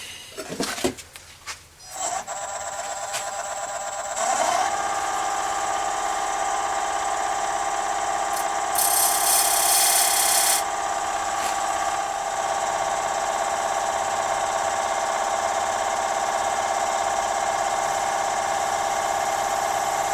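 A wooden piece spins on a lathe while a tool cuts a small groove, giving a steady high-pitched whine and scraping hiss that continues throughout after a brief startup.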